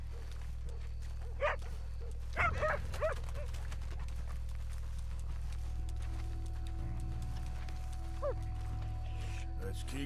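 A dog in the Red Dead Redemption 2 video game barks a few times in the distance, faint short yaps over a steady low ambient hum with occasional soft movement sounds.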